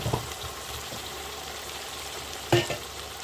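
Ginger, garlic, tomato and onion paste frying in a pan: a soft, steady sizzle with a couple of sharp spoon-against-pan clatters at the start and near the end.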